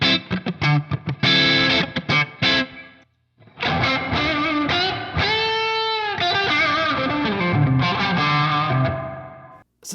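Distorted electric guitar through a TONEX ONE amp modeler with reverb, strummed chords and sustained bends ringing out, a brief pause, then playing resumes.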